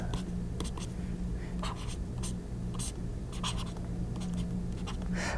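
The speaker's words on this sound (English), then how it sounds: "So I'm going to write my equation." A pen scratches across paper, writing out a math equation in a series of short, separate strokes with brief pauses between them, close up over a low steady background hum.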